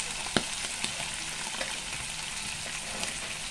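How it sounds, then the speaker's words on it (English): Onions frying in a pan alongside saltfish, a steady close sizzle with a few sharp pops and ticks, without any talking. "So now we're going to go in with our onions"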